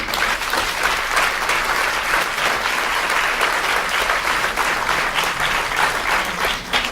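Conference audience applauds Dr Joëlle Hureau at a colloquium, dense continuous clapping from a large room, loud and even throughout.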